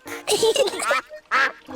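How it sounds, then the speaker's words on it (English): A cartoon duck quacks in a short burst of nasal quacks, then gives one more quack after a brief pause, close and clear. "Here's some bread, Mrs. Duck."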